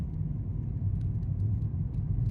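Inside a car driving along a road near Greer, Arizona, just under the 50 mph limit: a steady low engine and tire rumble with faint road noise, no talking.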